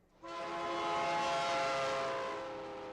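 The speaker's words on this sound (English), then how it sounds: "The trains don't stop in Belle Plaine anymore, but they still roar right through the middle of town." A train roars through the middle of a small town, a loud sustained rumble with a blaring horn whose steady tones start abruptly and hold for the whole stretch, with no voices.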